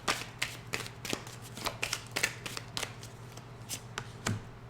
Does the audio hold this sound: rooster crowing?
no